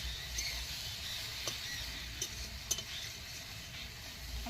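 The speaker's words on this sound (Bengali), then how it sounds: "জলটা শুকনো হয়ে গেছে, একটু ভালো করে ভেজে নেব।" Shredded cabbage for a Bengali fish-head dish sizzles softly in a hot pan as the water cooks off, with occasional light scraping and clinks of stirring over a steady frying hiss.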